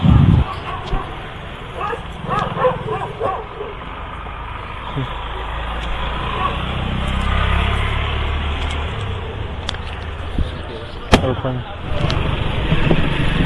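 Dogs bark intermittently in the background outdoors during a food delivery, scattered yips and barks mixed with traffic noise and passing vehicles, with people talking nearby.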